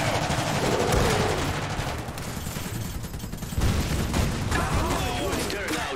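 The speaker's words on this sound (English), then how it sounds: "Suppressive fire." Suppressive machine gun fire in the Iron Harvest strategy video game, a dense continuous rattle of gunfire mixed with distant blasts that persists throughout the clip, with some game voice lines heard over it.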